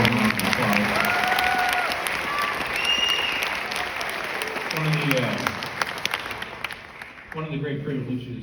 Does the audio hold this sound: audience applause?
yes